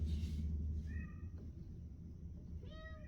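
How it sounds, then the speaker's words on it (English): A stressed indoor cat gives two short, raspy, strained meows, the second after a pause, faint and close over a steady low background rumble. "His meow's not quite normal. It's kind of raspy."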